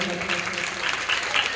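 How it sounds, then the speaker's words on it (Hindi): An audience applauds at a Ramlila gathering, a steady wash of clapping that holds at an even level throughout and sounds somewhat distant and diffuse. "साधना देवी के लिए जोरदार ताली बजाइए।"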